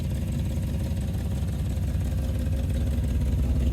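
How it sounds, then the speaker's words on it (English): A 1965 Chevrolet Impala SS engine idles with a deep, rumbling, slightly raspy exhaust note from a leak in a rotted-out exhaust, steady and continuous with no talking. "We got an exhaust leak."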